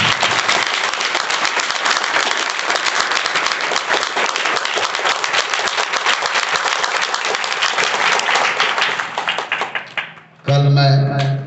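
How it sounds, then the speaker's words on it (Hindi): Students at a mathematics session open it with loud, enthusiastic clapping, a dense sustained burst of applause that tapers off near the end, after which a voice begins speaking. "आइए इस गणित के सदन का शुरुआत हम जोरदार तालियों के साथ करते हैं"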